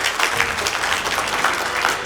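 An audience at a motivational talk claps together in a dense, even burst of applause that carries steadily for a couple of seconds without a break.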